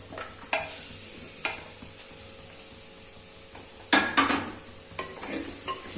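Chopped tomatoes sautéing in a pan of crab curry give a steady low sizzle, broken by a few sharp stirring scrapes and spoon clatters, loudest in a quick cluster near the end.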